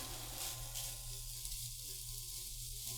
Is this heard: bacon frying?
yes